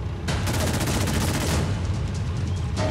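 Gunfire in the video game Fallout 4: a dense, loud burst of rapid automatic shots that runs continuously, cuts off briefly, then resumes at the very end.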